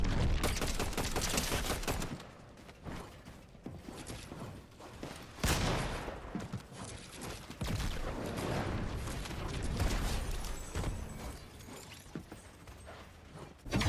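Rapid bursts of video game gunfire in a solo battle match, crackling in uneven clusters of shots at moderate loudness with brief pauses between volleys and no talking.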